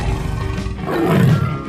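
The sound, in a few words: tiger roaring in a 3D animal video game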